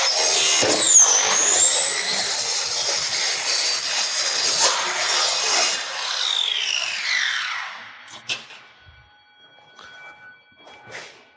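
A Schlebach SPM profiling machine cuts a timber rafter at a 10 degree angle for a valley roof, giving a loud, steady high-pitched whine for about seven seconds that sweeps down and fades, followed by a few scattered mechanical clicks.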